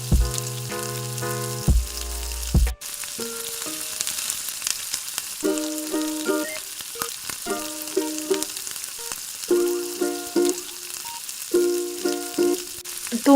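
Onions and tomatoes fry in a pan with a crackling sizzle throughout, under repeated bursts of tonal music that start and stop, with no talking.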